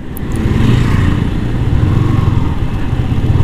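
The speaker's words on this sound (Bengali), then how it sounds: "আর আমার বাইক সব রাস্তা দিয়ে চলে" A motorcycle engine drones steadily and loudly while riding along roads near Mymensingh, with constant low rumble and wind noise throughout, no talk.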